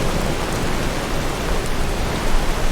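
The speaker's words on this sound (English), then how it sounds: "I do enjoy just how loud the rain is. It's quite soothing." Heavy, loud rain in the video game Skyrim, a dense, unbroken hiss of falling water with no voices over it, steady and close throughout.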